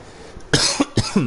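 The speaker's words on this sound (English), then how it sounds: "I had a cough." Several short, sharp coughs in quick succession, close to the listener, then a brief throaty vocal sound.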